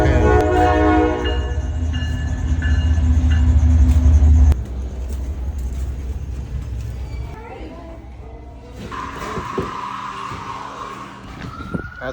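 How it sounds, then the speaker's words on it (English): A slow freight train rolls through a small town in Dunn, North Carolina, its loud, deep horn blast sounding near at first, then giving way to a steady rail rumble with voices talking over it. "we're getting one of those slow trains today around here. That really backs up traffic throughout the whole town"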